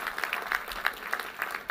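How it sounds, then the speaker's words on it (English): Brief, thin applause at a class of 2015 graduation ceremony following the introduction of the valedictorian, a modest scattering of claps heard at moderate distance. "you can applaud"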